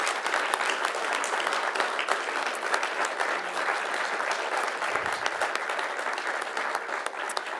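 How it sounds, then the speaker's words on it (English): Audience at a 2024 conference award ceremony breaks into sustained, dense applause, many hands clapping steadily and fairly loudly throughout with a faint murmur of the crowd. "Let's give her a big round of applause."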